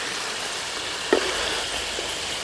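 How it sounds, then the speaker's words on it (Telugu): Masala-coated pieces frying in a pan, a steady close sizzle that runs throughout, broken by a single brief clink partway through, with no voices. "ఇట్లా ఒక 10 నిమిషాల దాకా వేపుకుందాము"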